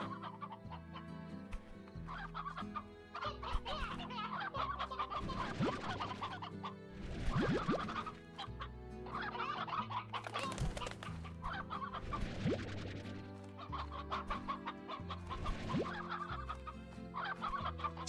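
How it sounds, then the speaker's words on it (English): Stony hens and an elder hen in the video game Slime Rancher, clucking busily in overlapping bursts over a quiet background, fairly faint and continuing throughout. "All right, so we have stony hens that we need to drop off."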